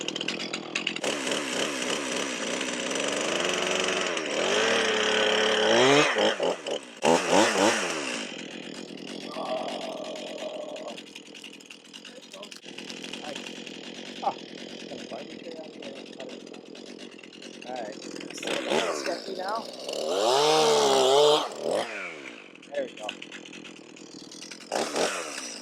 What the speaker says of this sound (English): Saw is cutting really good after doing a little sharpening.